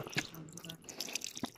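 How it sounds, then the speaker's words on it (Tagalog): Water drips and trickles at a cold mountain spring on Mt. Guiting-Guiting, Sibuyan Island, with irregular close plinks over a faint wet background, quiet and with no voices. "So ito yung water source natin."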